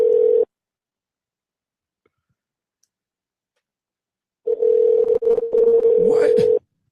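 Phone call ringing and not answered: a steady electronic ring tone sounds briefly, stops for a long silent gap of about four seconds, then rings again with clicks and a short rising blip near the end, close and loud.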